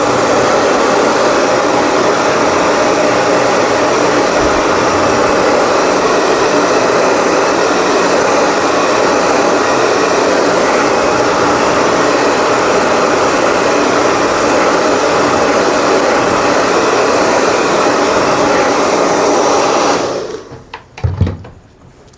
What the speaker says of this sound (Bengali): এইভাবে ওভারল্যাপ করে রাখার পর আপনারা ড্রায়ার দিয়ে শুকিয়ে নেবেন